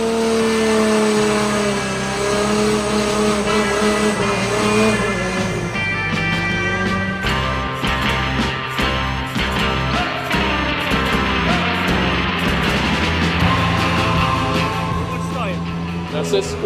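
An S14.9 car's engine revs hard on a dyno run, a loud sustained roar with rising pitch sweeps and crackling bursts, while someone talks over the noise.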